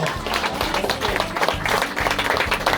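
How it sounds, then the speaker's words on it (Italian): Audience clapping at a gathering of Sardinian dentists who volunteered in Moldova, a dense continuous patter of many hands, fairly close and lively, with some voices mixed in. "Un applauso a tutti, un applauso"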